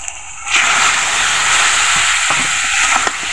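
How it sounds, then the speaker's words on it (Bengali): Barbel (shing) fish dropped into hot spice masala, a sudden loud sizzle bursting up after a quiet moment and holding steady, with a few spatula scrapes and knocks toward the end. "এখন দেওয়া হচ্ছে শিং মাছগুলো।"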